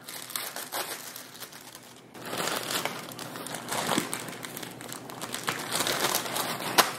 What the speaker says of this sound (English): You'll just want to crumple them up.